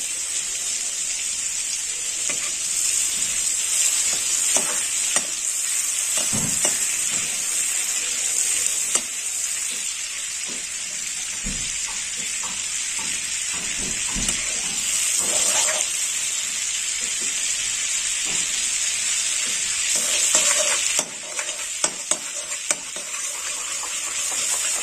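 Onion paste frying in 50 grams of melted butter for dhania murg gives a steady, close hiss with scattered pops and stirring clatters throughout, no talking.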